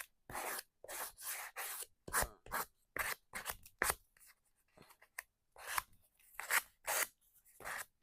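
Scissors cut through the cover of a composition notebook in close, crisp snips and rasping cuts, arriving in irregular bursts separated by short silences.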